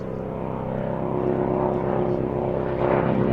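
Percival P.56 propeller trainer aircraft at an air show, a steady droning engine hum with a low throb that swells slightly toward the end, under a commentator's voice.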